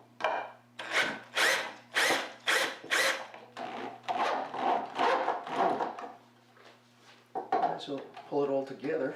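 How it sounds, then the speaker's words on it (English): A power drill drives bolts into scrap wood for a floating shelf, in a series of short rhythmic bursts with pauses between them, close and clear, with a brief quiet gap before the last few bursts. "I'm just going to start driving each bolt"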